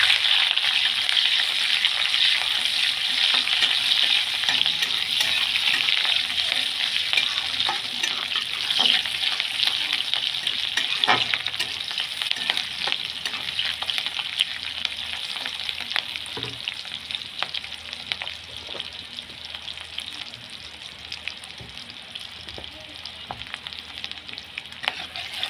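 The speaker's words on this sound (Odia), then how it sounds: "ସୋରିଷ ଫୁଟି ଆସିଲାଣି। ତାପରେ ଆମେ ପିଆଜ ପକାଇଦେବା।" Chopped onions frying in hot oil with popped mustard seeds, a steady, close, bright sizzle that holds throughout with occasional stirring clicks and no voices.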